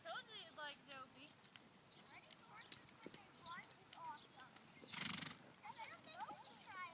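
A horse being ridden at a farm clip-clops with steady hoofbeats, joined by whinnies and a child's and adult's voices talking over it, with a brief louder rustle midway.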